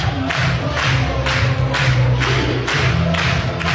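A softball stadium crowd at a Florida State vs Oklahoma super regional game chants in a frenzy, with rhythmic thumping claps or stomps about twice per second over a loud, steady roar.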